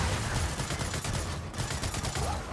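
Relentless automatic weapon fire in a Gears of War 4 firefight, a loud unbroken barrage of overlapping shots throughout.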